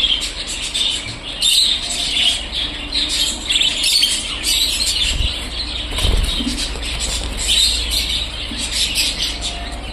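A female budgerigar is caught by hand and separated from another female it was fighting, and it beats its wings in steady, close flapping with scattered chirps and squawks throughout.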